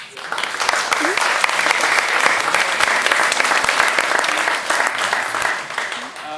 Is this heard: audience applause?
yes